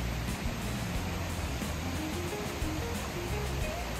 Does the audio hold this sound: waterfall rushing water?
yes